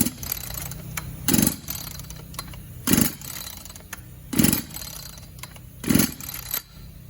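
A worn small engine with a bad connecting rod runs roughly at a low idle hum, broken by four loud, evenly spaced knocking bursts about every second and a half.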